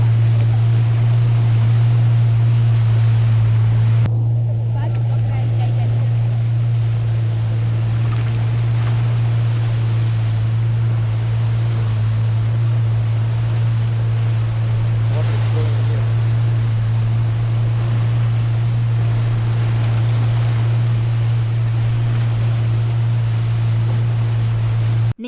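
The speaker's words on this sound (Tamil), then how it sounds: "முதல்ல ரொம்ப காமா இருந்த நைல் நதியுடைய அலைகள் வந்து போக போக கொஞ்சம் வேகமா இருக்கும்." A boat motor drones steadily on the Nile River on the way toward Murchison Falls, with rushing water and wind noise over a constant low hum throughout.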